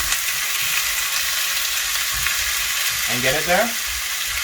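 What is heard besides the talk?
chicken sizzling in a cast iron pan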